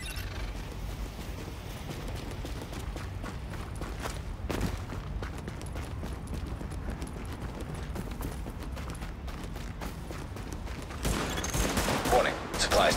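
Gunfire in The Division, a dense ongoing crackle of rapid shots and clattering mechanisms through the whole stretch, swelling louder near the end.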